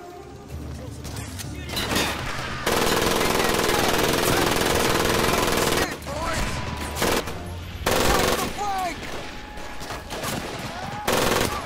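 Gunfire in Medal of Honor: loud, sustained machine-gun bursts with rapid rattling shots, broken by short pauses and scattered single reports, close and continuous.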